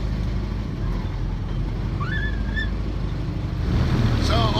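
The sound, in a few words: boat engines humming on the river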